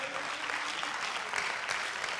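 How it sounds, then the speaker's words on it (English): A church congregation claps hands during a Sunday morning service, a dense, even patter of many hands heard at a moderate distance with no clear voices on top. "Clap your hands, all you people, in Jesus' name"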